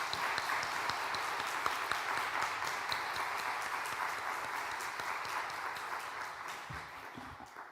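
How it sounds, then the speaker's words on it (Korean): A church congregation in Korea gives a missionary a welcoming round of applause, a dense, steady wash of clapping heard at a distance that thins out near the end. "우리 선교사님 나오실 때 박수로 환영하도록 하겠습니다."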